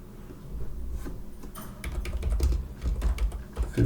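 Close computer keyboard typing, heard as a quick patter of key clicks that grows denser and louder toward the end.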